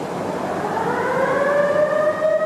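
A warning siren wails in a steel mill while a ladle of hot steel is moved, its rising tone climbing steadily and holding loud and continuous under a constant rumble of plant noise.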